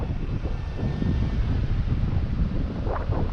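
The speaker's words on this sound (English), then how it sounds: "we're really fighting some wind now." Strong wind buffets the microphone while a Mavic Mini drone is flown outdoors, a loud continuous low roar with no voices, steady throughout.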